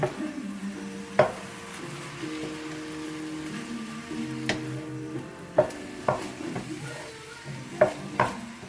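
Spam fried rice stirred in a pan with light soy sauce, scraping spoon strokes and sharp clinks against the metal over a low sizzle, close up and alone.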